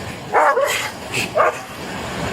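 A police dog barks during a traffic stop over a stolen car: a few loud, close barks in quick succession with short gaps between them, and no talk over them.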